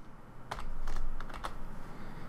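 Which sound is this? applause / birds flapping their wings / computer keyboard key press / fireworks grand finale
computer keyboard key press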